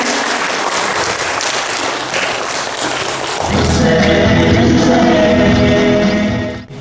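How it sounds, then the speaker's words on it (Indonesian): Loud, sustained applause from an audience at an economic census results launch event in West Papua, steady clapping that swells and continues for several seconds before tapering off. "Kita berikan aplaus yang meriah."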